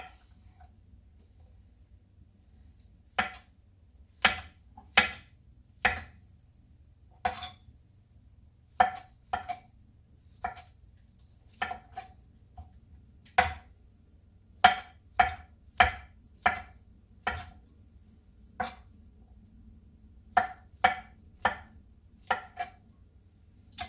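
A knife slices mushrooms on a cutting board, a long run of crisp, irregular knocks, sometimes single and sometimes in quick clusters, close and clear over a quiet background with no talking.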